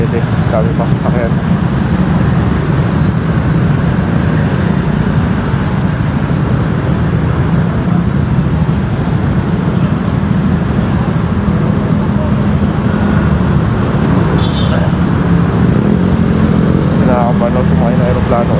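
Dense road traffic around a motorcycle riding through Metro Manila, a steady loud roar of engines and wind with occasional horn-like tones throughout.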